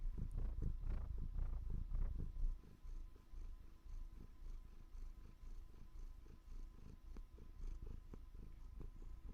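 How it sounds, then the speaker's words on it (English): A domestic cat purrs right beside the microphone, a steady, low rumbling rhythm that is strongest at the start and continues softly, with no talking. "I want to try and put the mic next to her to see if it can pick up her purring."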